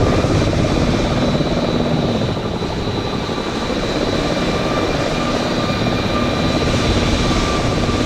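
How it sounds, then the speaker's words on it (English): A helicopter flies outside over Hong Kong, its engine and rotors making a steady, continuous drone that stays loud and even throughout, with no talking. "Oh yeah, there's a helicopter out there."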